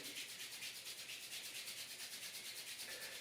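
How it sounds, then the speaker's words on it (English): Palms rubbed briskly together during a yoga session, giving a steady soft swishing friction with a quick even back-and-forth rhythm, close and quiet, with no talking. "Take the palms together, rub the palms."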